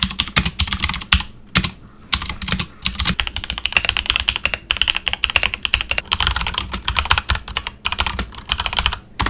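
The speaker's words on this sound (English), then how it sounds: "blue switches have a distinct, very clicky click" Rapid clicky keystrokes on a budget mechanical keyboard with blue switches, a dense irregular clatter of sharp clicks continuing throughout.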